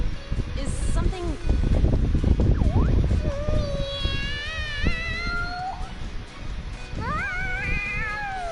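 A cat in Persona 5 Royale, several rising and falling meows, some drawn-out and wavering, over rustling, noisy background sound.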